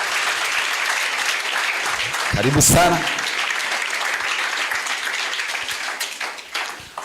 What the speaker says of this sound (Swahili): Tumpigie Reverend wetu makofi anapoingia.